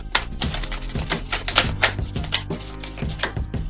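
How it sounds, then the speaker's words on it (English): Tarot cards being shuffled give quick, crisp riffling clicks and soft taps in irregular bursts, close by and fairly loud, with no talk. "One more shuffle."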